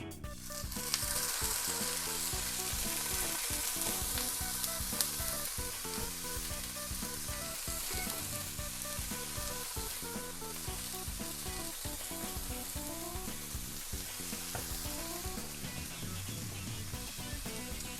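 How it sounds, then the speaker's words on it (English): A sirloin steak sears in an oiled pan, giving a loud, steady sizzle and crackle of frying that holds up close and continuous throughout, with no talking. "I am ready to place my meat on the pan"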